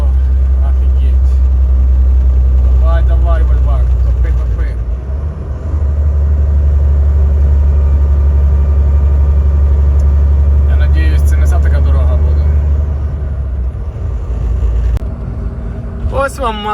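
A heavy truck's engine labors loud and close as it climbs a steep hill in California, a deep sustained rumble that dips briefly midway before pulling again, with talk over it.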